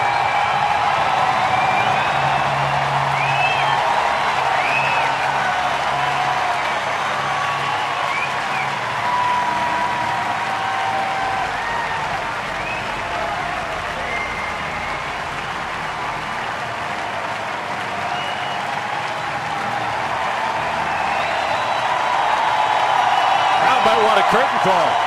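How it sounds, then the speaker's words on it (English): A large baseball crowd at Turner Field in Atlanta keeps up sustained cheering and applause for a curtain call, a broad continuous roar that swells toward the end, with a broadcaster's voice occasionally audible over it. "Listen to the crowd at Turner Field."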